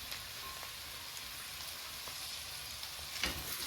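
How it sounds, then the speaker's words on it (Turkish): Zucchini, potatoes and carrots fry in a pan for a meat and vegetable stew, giving a faint, steady crackling sizzle with an occasional stir or clatter and no talking. "Evet kabaklarımızla, patateslerimizle, havucumuzla da kavurmaya devam ediyoruz efendim."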